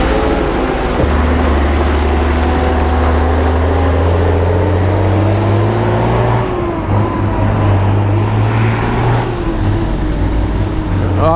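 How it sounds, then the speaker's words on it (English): A noisy truck rolls past nearby on a road, its engine drone rising and then falling away as it goes, loud and steady the whole time. "I had to leave that noisy truck get out of the way first"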